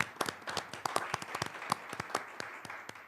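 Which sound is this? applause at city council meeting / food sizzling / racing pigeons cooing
applause at city council meeting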